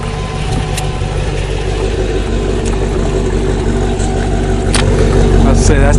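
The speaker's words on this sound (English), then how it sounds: "You hear the exhaust note on it." A Range Rover Classic fitted with an aftermarket exhaust tip idles with a steady, mellow low rumble that stays moderate rather than loud, holding an even level for the whole stretch.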